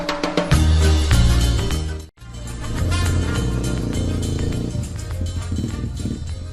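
A motorcycle engine runs loud and close, its revving roar steady with a brief cutout near the middle before the engine noise resumes.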